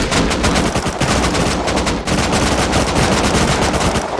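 Automatic gunfire in the survival game Rust, a loud, unbroken stream of rapid shots filling the whole stretch with only a brief dip midway.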